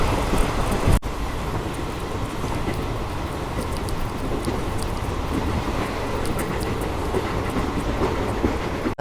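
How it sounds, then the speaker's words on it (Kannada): Chamarajanagar–Tirupati Express rolling into Nanjangud railway station, a steady, dense rumble of wheels and carriages with rail clatter running throughout, close and loud, with no voices. "ನಂಜನಗೂಡು ರೈಲ್ವೆ ಸ್ಟೇಷನ್ ಎಂಟ್ರ್ ಆದೇವ್ರಿ ಈಗ ನಾವು"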